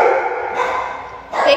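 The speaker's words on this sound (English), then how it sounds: "Sorry, my dogs are going crazy." Dogs barking and yipping indoors, a few close, loud barks in short bursts at the start and end with a brief whine between.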